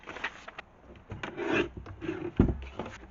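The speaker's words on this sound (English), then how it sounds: "I need to trim off a bit at the bottom of both pieces here" Paper pieces for a manila folder folio are trimmed, giving dry scraping and rubbing strokes with a few sharper snips and a firm thump near the end, close and fairly quiet, with no talking.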